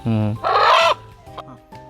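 Two-month-old chickens on an organic poultry farm give loud, close calls: a sustained crow-like cry, then a shorter burst, followed by softer scattered clucks.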